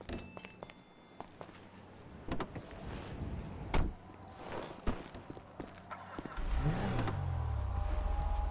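Car driving through streets in Grand Theft Auto V, steady engine hum with bursts of clatter and thumps, rising into a louder low engine drone near the end; no talk.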